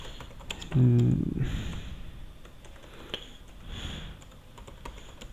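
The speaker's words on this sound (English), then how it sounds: "Just here you can type the message." Keys clacking on a computer keyboard while a text message is typed, a steady run of light, close taps with a brief louder burst near the start and no talking.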